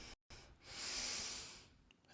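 A long, airy inhale drawn during a beginner's Sun Salutation B yoga flow while stepping up into a lunge, a steady, close breath swelling and fading over about a second after a brief silence.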